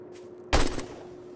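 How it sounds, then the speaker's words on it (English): A single sharp sniper rifle shot rings out against a zombie in a survival video game, a sudden close crack with a short tail fading into quiet background hum. "Just sniped a zombie from here."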